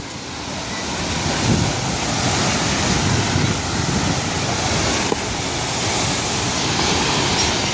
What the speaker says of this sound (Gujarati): અહીંયા કેટલું પાણી આવે છે એ પણ તમે વિડીયોની અંદર જોઈ શકો છો